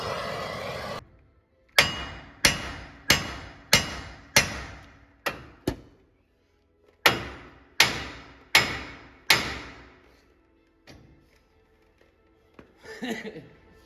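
A hammer strikes repeatedly on a heated Ford F350 front axle to drive out the ball joints, loud metallic clanging blows in two bursts of about six each with ringing decay, then a pause and faint handling noise at the end.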